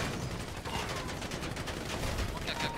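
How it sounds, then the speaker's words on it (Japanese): Rapid bursts of video game gunfire rattle in quick volleys against a ship's stern, dense crackling shots at moderate level mixed with voices talking over them. "これ船尾から撃たれる、船尾撃たれる"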